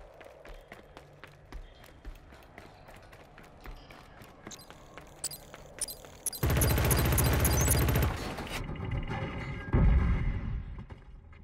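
Gunfire and grenade blasts in a Killzone Shadow Fall multiplayer clan match: scattered shots first, then a loud, dense burst of automatic fire lasting a couple of seconds, followed by a heavy explosion-like boom.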